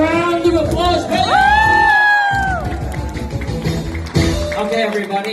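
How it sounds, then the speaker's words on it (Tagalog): A crowd at a debut party in Cebu cheers and whoops loudly, with excited voices and a rising shouted call carrying over the continuous, close-up din. "would you give her another round of applause, everybody?"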